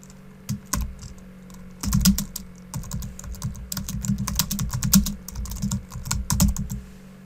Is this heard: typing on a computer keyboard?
yes